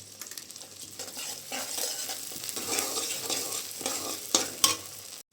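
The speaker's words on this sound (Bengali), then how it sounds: "এটা আমি এখন একটু ভেজে নেব।" Sliced onions frying with salt in a pan make a continuous, moderately loud sizzle that swells slightly, ending with a couple of sharp metallic clicks; no one speaks.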